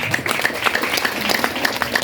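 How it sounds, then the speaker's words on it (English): An audience at a Lagos Baptist Senior College careers presentation claps steadily for a student, a dense patter of many hands that holds at an even level throughout. "Let's clap for him."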